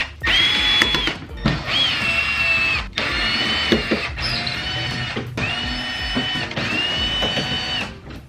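A power tool removes the 13mm skid plate bolts under a VW Mk7 Golf Alltrack, whirring in several close, high-pitched bursts separated by short pauses.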